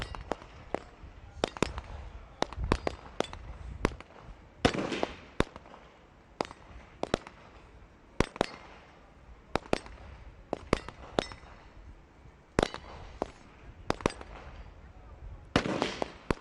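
Gunshots ring out at the UAE SWAT Challenge 2024 shooting competition: sharp, loud reports arrive irregularly, sometimes in quick pairs or short clusters, over a low background rumble.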